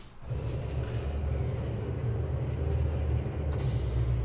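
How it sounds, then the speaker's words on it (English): A train in the video game Wolfenstein rumbles steadily, a deep continuous low-pitched drone with rattling, heard alone and evenly loud throughout. "I stole their train!"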